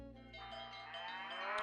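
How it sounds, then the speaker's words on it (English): Cattle moo in a long, loud, drawn-out call with rich harmonics, alone with no talk, as part of a cattle feed radio commercial in a Nancy Drew ranch game. "Hear that? That's the sound of happy cattle"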